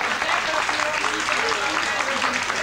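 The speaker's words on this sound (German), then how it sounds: "Einen super warmen Applaus" A TV studio audience claps continuously, a dense, even wash of applause filling the room, with a voice faintly underneath.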